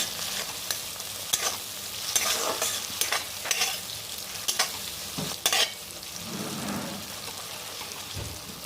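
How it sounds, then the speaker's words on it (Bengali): Cashew nuts fry with onions and tomatoes in a pan, a steady close sizzle broken by several sharp stirring scrapes and clinks, with no talking. "কাজু বাদামটা একটু এর সঙ্গে ভেজে নিচ্ছি।"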